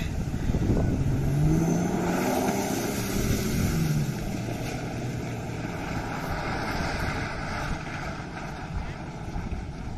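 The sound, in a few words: jeep driving past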